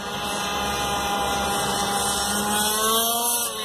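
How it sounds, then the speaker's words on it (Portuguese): Small gasoline engine of a Carson Devil 1/5 scale RC model car driving at speed, a loud continuous high-pitched whine with a slowly shifting pitch, close and steady throughout, with no talk. "Olha o carro vindo."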